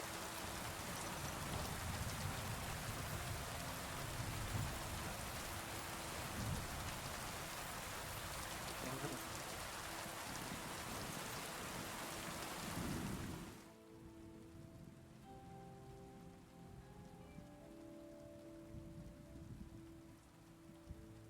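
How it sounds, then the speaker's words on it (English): Heavy rainstorm in Kingdom Come: Deliverance II, a dense, loud wash of rain that cuts off abruptly after about thirteen seconds, leaving quieter ambience with faint tones. "Nice little rainstorm we got going on here."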